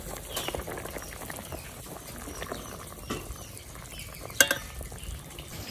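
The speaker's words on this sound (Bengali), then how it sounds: "আমি এখন এই মইঠাটা দিয়ে দিচ্ছি" Soyabean muitha dumplings go into a frying pan, with a soft continuous sizzle, stirring and scraping, and a couple of sharper knocks of a spoon against the pan, close by and fairly quiet.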